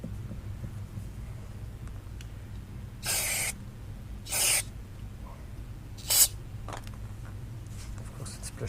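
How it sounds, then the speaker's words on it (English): Three short hissing bursts of carburetor cleaner from an aerosol spray can, separated by pauses, over a low steady hum, while cleaning a 2006 Polaris 600 RMK HO 155 snowmobile carburetor. "I'm gonna spray that with carburetor cleaner"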